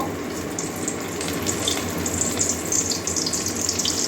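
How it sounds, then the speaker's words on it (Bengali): Egg-stuffed pointed gourd fries in hot mustard oil with a loud, continuous crackling sizzle that holds steady throughout, with no talking. "তেল গরম হয়ে গেছে বন্ধুরা, এবারে এই যে ডিম পটলটা একটু ভেজে নেব"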